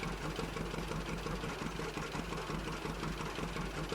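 A John Deere tractor of about 200 horsepower runs in Farming Simulator while planting soybeans, a steady low diesel drone with a faint knocking pulse, held evenly and quietly throughout with no talk.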